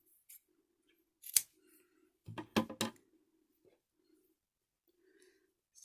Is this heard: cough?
no